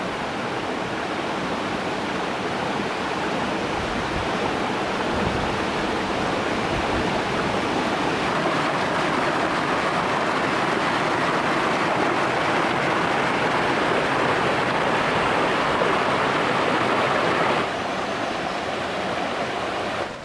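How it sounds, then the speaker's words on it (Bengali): Small waterfalls pour into a clear mountain river on a forest trek, producing a loud, steady broadband rush of falling water that continues unbroken and close by. "এই নদীর মধ্যেই মাঝে মাঝে পড়ছে এমন ছোট ছোট ঝর্ণা।"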